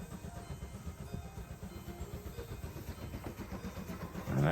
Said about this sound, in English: And there goes Thomas.